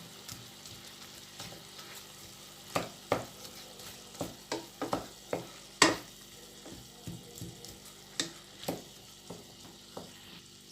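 Shallots stirred into Thai pork larb in a pan, with a soft sizzle under repeated scraping and clacking strokes of a utensil against the pan, fairly quiet and close.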